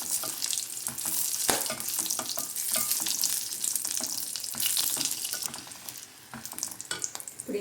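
Twenty dried red chillies frying in hot sesame oil, a bright crackling sizzle with sharp pops and occasional stirring scrapes, close and continuous throughout.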